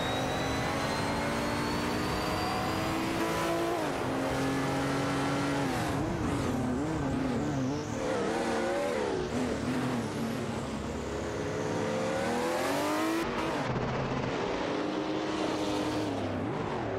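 A BMW CSL 3.5 and a Nissan Skyline 2000 TR race in a video game, their engines roaring loudly and continuously, pitch rising and falling through gear changes with tire squeal, no talk over them.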